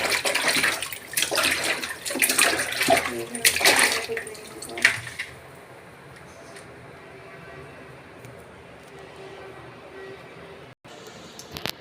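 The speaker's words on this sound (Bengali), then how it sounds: "তো আমি এগুলা গুঁড়া মাছ ভালোভাবে ধুয়ে নিব।" Small dried fish being washed in water make splashing and sloshing sounds close by for about five seconds, then fade to a quiet running-water hiss with background noise.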